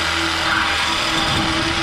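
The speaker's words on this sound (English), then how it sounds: "this pipe got broken off, so we're gonna" A power tool cuts off a broken pipe on an old compressor, giving a steady loud whirring drone with a constant tone and no breaks.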